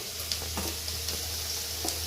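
Oil sizzles in a heated pot on a stove while gongura prawn curry is being made: a steady soft hiss with faint crackles over a low constant hum, with no voices.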